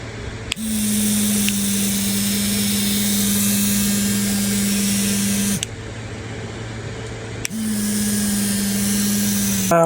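A small electric toothbrush buzzes loudly and up close in a steady motor drone. It runs for about five seconds, stops briefly, then starts again with no talking over it.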